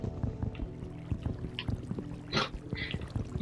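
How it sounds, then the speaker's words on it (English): Running water in the Minecraft video game while someone rebuilds a flooded floor, a soft pouring, trickling wash with faint game clicks and steps over about three seconds, one louder splashy burst near the middle. "Trying to sort out the flow of water here."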